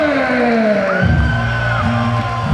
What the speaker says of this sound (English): Very loud cheer here from Alberto Fernandez's fan base.